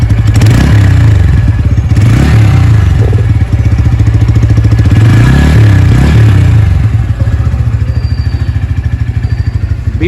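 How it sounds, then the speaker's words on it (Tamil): A Bajaj Pulsar P150 motorcycle with an underbelly exhaust idles close by with a loud, steady throbbing beat that swells briefly in a couple of blips. "இப்போ இந்த பைக்கோட எக்ஸாஸ்ட் நோட்டை நான் வந்து இப்போ உங்களுக்கு காட்டுறேன்."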